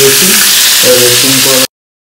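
Chicken frying in a small pan sends up loud, dense sizzling and spitting oil, with a faint steady tone running beneath it before the sound cuts off abruptly.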